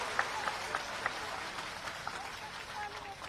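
Crowd applause welcoming Shivraj Singh Chouhan at a political rally in Piprai, a steady wash of clapping with a few sharper claps standing out, moderately distant.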